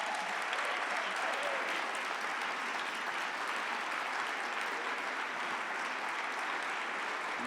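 An audience applauds steadily at a community awards gala, a dense, even wash of clapping that holds for the whole stretch with no voices breaking through.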